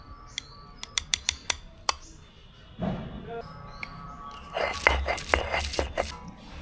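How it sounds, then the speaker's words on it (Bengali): Black cumin seeds are ground for kalo jira bhorta, first with sharp, separate clicks and knocks, then with a rougher, busier run of grinding and scraping near the end, close up. "এবার কালো জিরা ভর্তার জন্য কালো জিরাটা বেটে নেবো"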